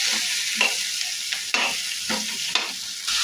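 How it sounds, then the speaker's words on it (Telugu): Ridge gourd pieces frying with onions are stirred in a hot pan, with a steady loud sizzle and about five scraping stir strokes at an uneven rhythm, close up and with no talking. "బీరకాయ ముక్కలు ఇవన్నీ బాగా కలుపుకోవాలి."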